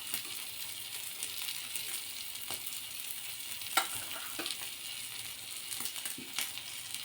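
Tomato with salt and red chilli powder frying in a pan for a boiled-egg omelette dish, giving a steady close sizzle with a few soft stirring clicks and scrapes, no talking.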